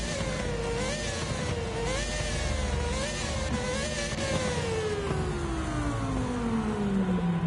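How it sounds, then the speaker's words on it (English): A Toyota Supra with a V10 engine swap screams through the gears in Gran Turismo 7, its engine note rising on repeated shifts and then falling steadily as it winds down. The sound is loud and continuous, with no voices. "somebody's definitely put an engine swap in that Supra. That sounds like a V10"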